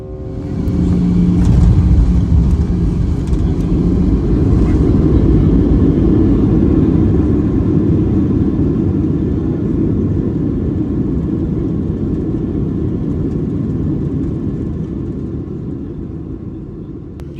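Small airplane on a flight to Petersburg, Alaska, a constant heavy engine and propeller rumble droning in the cabin, loud and unchanging, slowly fading slightly toward the end.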